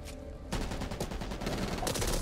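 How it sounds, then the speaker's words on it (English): A sawed-off shotgun in Back 4 Blood opens up after a quiet half second, followed by dense, loud gunfire and chaotic combat noise that continues to the end. "Sawed-off shotgun!"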